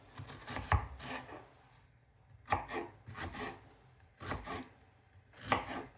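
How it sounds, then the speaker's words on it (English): A knife dices a medium onion on a cutting board in short clustered bursts of crisp chops separated by brief pauses, close and fairly quiet. "So I'm going to be dicing up a medium onion."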